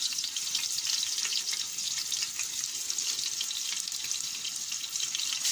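Chicken pieces, skin side down, fry in a hot pan for a quick chicken and curry kabsa, giving a steady, dense sizzle that holds evenly throughout with no talking.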